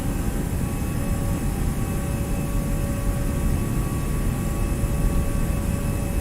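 An airliner's engines roar in a steady, loud, continuous drone with a faint high whine during a flex takeoff in the X-Plane 11 flight simulator.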